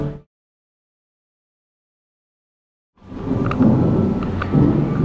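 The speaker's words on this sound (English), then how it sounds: "they have sound effects going. Thunder and lightning sound effects, and it's thundering and lightning outside" Rumbling thunder at a theme park, theme park effects or a real storm outside, bursting in loud and sustained after a brief noise and three seconds of silence, with rolling low rumble and crackling texture.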